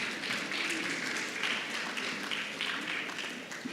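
Audience applause at an international dental research symposium, a dense steady wash of many hands clapping that fills the room evenly for the whole stretch with no voices on top.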